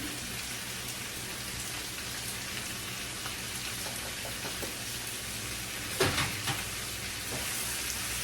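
Spices dropped into a hot pan on a small home stove hiss and sizzle in a steady, dense wash, with a few louder crackles and bursts near the end.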